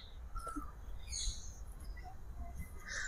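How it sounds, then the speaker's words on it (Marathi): Birds chirp from trees around an outdoor spot in Bangalore, heard as faint, scattered high calls and tweets over a low, steady background rumble. The calls are sparse and quiet and seem to come from some distance. "पक्ष्यांचा वगैरे मस्त किलबिलाट आहे"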